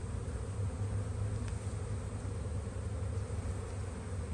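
Honeybees crawl over a frame lifted from a healthy spring colony, making a continuous close, even buzzing drone that stays level throughout, with no talk.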